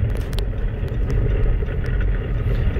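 A Nissan Rogue SUV with a reported transmission problem drives along, making a steady, loud low rumble of engine and road noise throughout, with a few faint higher clicks.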